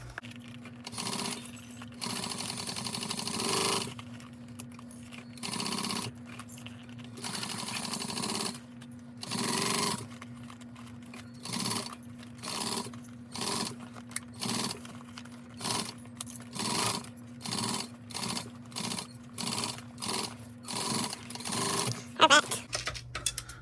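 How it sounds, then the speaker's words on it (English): A sewing machine stitches a quarter-inch seam through thick fabric layers for a custom pack, running in many short bursts with pauses between, close and fairly steady, with a low motor hum under the rapid needle strokes. "so now I'm going to sew this at a 1/4 inch seam allowance."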